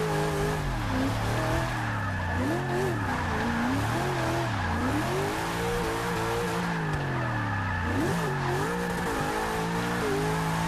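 Chevy SS drifting in Forza 6, the engine note rising and falling with throttle under a steady high tire squeal, loud and continuous throughout.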